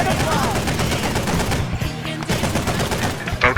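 Rapid gunfire crackles almost nonstop through a naval battle in a boat combat video game, dense bursts of shots layered over engine and explosion noise, loud and close with no break.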